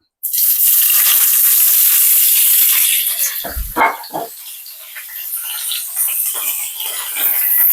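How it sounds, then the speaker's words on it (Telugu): Ivy gourd (dondakaya) pieces drop into hot oil and set off a loud, steady sizzle that runs throughout, with a few brief clattering bursts partway through. "నూనె వేడెక్కింది ఇప్పుడు ఈ దొండకాయలు వేసుకుందాం"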